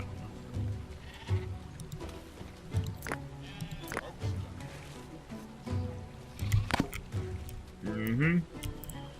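Sheep in the Dawn of Man video game bleat repeatedly, some calls wavering, over an ambient game background while someone talks throughout.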